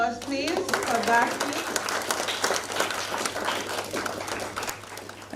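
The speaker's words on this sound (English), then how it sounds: "Another round of applause, please, for that." Audience applause at a university literary awards ceremony, a steady broadband clapping that fills the whole clip at moderate loudness, with crowd noise and a voice heard briefly at the start.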